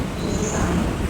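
Steady, even rumble of a Hyderabad metro train in motion, a constant noise with no break and no voices.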